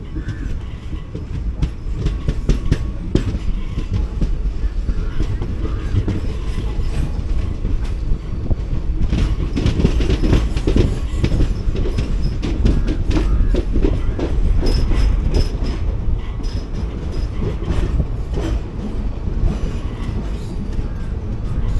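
The 16343 Amritha Express runs into Dindigul Junction, heard from on board as a sustained heavy rumble with rapid clickety-clack of wheels over points and joints and occasional metallic squeal, loud and steady throughout.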